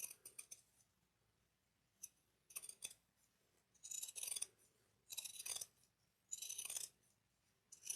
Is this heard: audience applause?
no